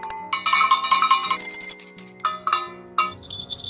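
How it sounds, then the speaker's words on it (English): A handbell rings repeatedly and loudly, with bright metallic clangs that ring on and overlap throughout. "Today and every day, I ring the bell."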